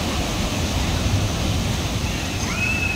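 Sea waves washing onto a beach during rain, a steady broad rushing surf that fills the whole clip at close range, with no talk and faint tonal traces near the end.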